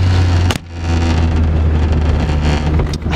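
A classic Alpine A110 1300 V85 sports car engine drones loudly from inside the moving car, with a brief gap and knock before the steady engine and road noise resume, wind buffeting mixed in.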